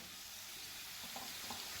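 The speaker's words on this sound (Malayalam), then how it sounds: "നമ്മൾ ഉള്ളി ഏകദേശം ഫ്രൈ ആയിക്കൊണ്ട് നിൽക്കുകയാണ്" Onions frying in a pan for a Kerala chicken roast, a steady soft sizzle running the whole time with faint stirring, fairly quiet and close, with no one talking.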